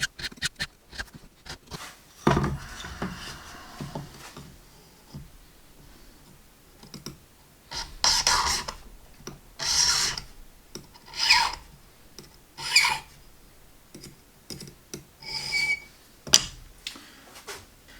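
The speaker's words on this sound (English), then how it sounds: "as I'm filing it, I'm rotating the file" A metal file rasps across a brass key blank in repeated strokes, the file rotated as it cuts; a dozen or so short, bright scraping bursts come close and fairly loud, separated by brief pauses and small clicks.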